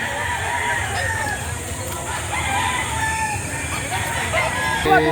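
Chickens cluck and a rooster crows faintly in the background, with a steady hum and some distant voices.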